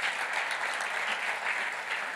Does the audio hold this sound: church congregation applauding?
yes